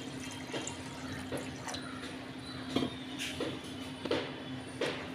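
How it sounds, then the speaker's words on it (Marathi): Water poured from a vessel into a pot of washed, soaked dried peas being set to cook, a steady close splashing pour with a low constant hum underneath and a few small clinks. "आता आपण त्याच्यातनं पुन्हा"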